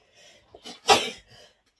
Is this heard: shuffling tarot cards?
no